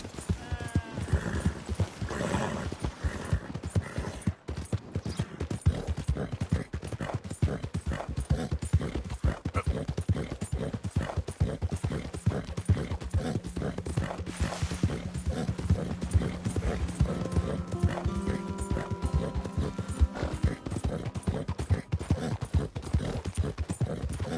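Horse hooves gallop in Red Dead Redemption 2, a steady rapid clip-clop close by that runs throughout, with occasional snorts and faint game sounds beneath.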